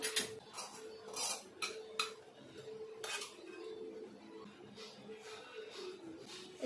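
A spoon stirs vegetables with Kashmiri red chilli powder in a metal pot, giving repeated close clinks and scrapes at an irregular pace, with no talking.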